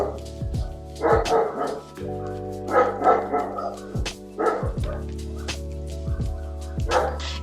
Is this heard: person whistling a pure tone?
no